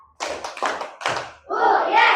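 A group of children and a teacher clap a short counted rhythm in a classroom, loud and close. Sharp bursts of claps are followed by a sustained round of applause and cheering.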